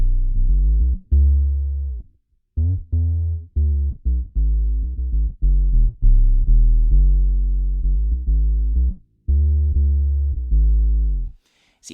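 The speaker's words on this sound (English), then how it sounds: "synth bass, really subby synth bass sounds using the OC2." A Boss OC2 octave pedal on bass guitar, set to one octave down with the dry signal off, gives a deep, subby synth-like bass line of short and held notes with pauses, loud and clear, no voices.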